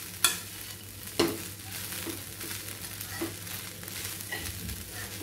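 Salted okra and fresh coconut rice being mixed in a pan, a few sharp spoon knocks and scrapes over a low continuous sizzle, close and fairly quiet, with no talking.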